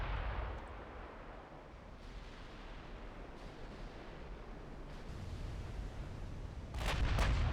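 Dreadnought battleship guns fire in the naval game Ultimate Admiral Dreadnoughts, with deep distant booms rolling under a continuous low rumble and a heavier salvo near the end, no voices.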